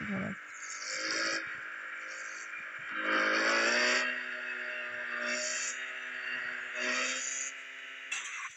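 A car's engine in the Car Parking 2 video game revs steadily, rising and falling in pitch with several surges over a continuous loud drone, with no talk.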